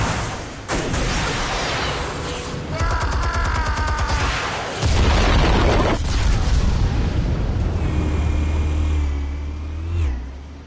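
Explosives detonate in a Batman video game with deep booming blasts and rumbling, mixed with crackling, rattling bursts and a low roaring tail.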